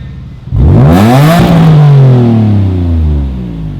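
A Nissan 350Z engine with a DNA catback exhaust roars to life and revs hard, its pitch sweeping up and then falling back, loud and close, holding a throaty exhaust note.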